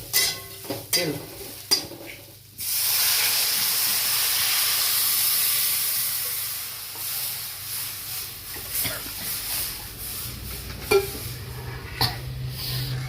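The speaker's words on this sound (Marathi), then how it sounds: "हे थोडस हलवून घ्यायचं आणि लगेच वाटायचं नाही तर ते करपून जात" Masala stirred and roasted in a hot pan for a Marathi katachi amti, a hissing sizzle that swells and fades alongside scattered scraping and clattering stirs.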